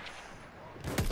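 One sharp sniper rifle crack near the end, from Battlefield 1, set against a quiet background.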